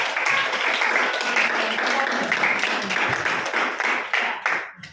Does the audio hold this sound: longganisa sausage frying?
no